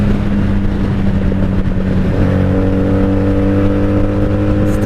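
A 1997 Honda Magna VF750C, running badly on old fuel from its carburetors, drones loudly and steadily in third gear on the highway, its engine pitch stepping up partway through.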